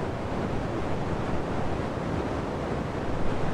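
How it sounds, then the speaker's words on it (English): Continuous broadband rushing noise like synthesized wind, played from a Keith McMillen K-Board 4 controller, steady and full with slight swells, no voices. "so this is just like a wind generator thing"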